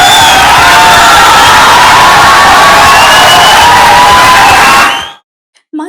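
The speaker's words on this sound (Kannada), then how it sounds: "ಕಿಕ್ಕಿರಿದ ಸಭಾಂಗಣದಲ್ಲಿ ಜನ ಜೋರಾದ ಚಪ್ಪಾಳೆಯೊಂದಿಗೆ ಯಶ್ ಅವರನ್ನ" A packed hall audience in Karnataka cheers and claps for actor Yash, a loud sustained roar of whoops and applause that cuts off abruptly near the end.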